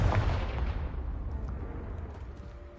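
In Hogwarts Legacy, a Confringo spell strikes a pile of debris with a deep explosive boom at the onset, followed by a dwindling rumble and faint scattering crackles.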